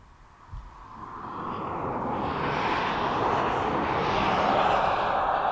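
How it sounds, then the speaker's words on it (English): A Ryanair airliner taxis at East Midlands Airport, its jet engine roar swelling from a modest hum into a loud, steady broadband rush that stays up close. "So as one Ryanair taxis in,"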